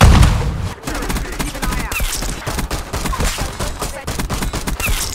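Pistol shots ring out in the first-person shooter Black Ops 6, a dense run of sharp, close, snappy reports in quick succession amid other battle noise, with no talking over them.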